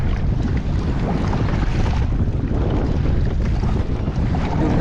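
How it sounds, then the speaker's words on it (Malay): Strong wind roars across open sea during kayak fishing before a storm, buffeting the microphone in a loud, constant rumble that runs without a break and has no talking. "Angin kuat, alun pun padu."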